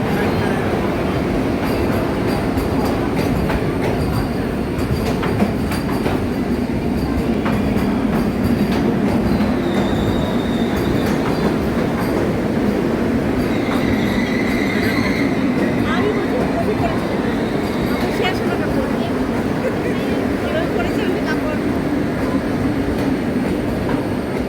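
A train at a railway station on a winter trip from Shillong to Jalpaiguri, with a constant heavy rumble, faint squeals and tones, and people talking over it throughout.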